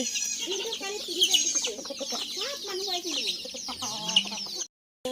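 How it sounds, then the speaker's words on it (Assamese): Local village chickens cluck steadily and close by, with scattered squawks and bird calls over a constant outdoor hiss. "লোকেল মুৰ্গী ইমান বেছি আছে চব।"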